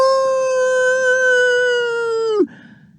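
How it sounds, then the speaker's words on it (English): A coyote howls in the distance: one long, steady, clear howl that holds for over two seconds, then drops off abruptly into quiet background hiss. "A coyote howled in the distance."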